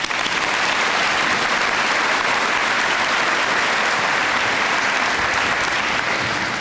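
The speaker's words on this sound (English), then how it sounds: "Let's give them a round of applause." An audience gives a sustained round of applause at a meeting, loud dense clapping that fills the whole stretch with only a stray word over it.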